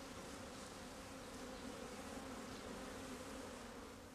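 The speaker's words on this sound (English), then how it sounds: "Comb by comb, Brother Adam examines each nucleus." Honey bees hum in a dense, continuous buzz close by as grafted-queen nucleus hives are opened and inspected comb by comb in late August, with a steady swarm drone and no talking.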